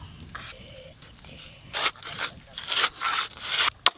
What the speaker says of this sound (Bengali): এবার কাতলা মাছের এই মাথাটা হাফ করে কেটে নেব।